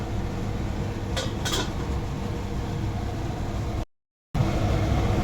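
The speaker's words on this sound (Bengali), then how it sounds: "এবার এটা আমি আবার ঢেকে দেবো ফোটার জন্য।" A lid goes onto a pot of simmering tomato ghugni with green peas, giving a couple of quick metallic clinks over a constant bubbling hiss, before a brief cut to silence.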